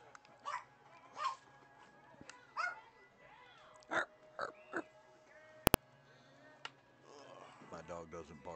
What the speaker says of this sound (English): My dog doesn't bark, she just whines